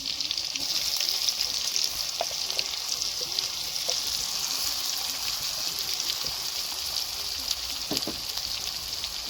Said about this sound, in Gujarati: प्याज डाल दी છે हमने